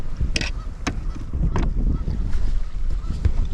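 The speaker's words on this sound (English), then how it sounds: "Boy, this wind has come out of nowhere" Wind gusting over a reservoir during kayak catfishing, buffeting the microphone in a low uneven roar, with a few sharp knocks from the boat.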